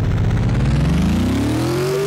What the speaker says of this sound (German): Der Auspuff ist kaputt.